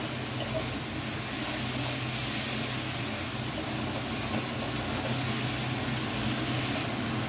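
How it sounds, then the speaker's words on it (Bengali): Meat sautéing in a little oil, with potatoes soon to follow, gives a steady, faint hiss and sizzle that runs unbroken throughout with no voices. "আমি এটাকে কষাবো।"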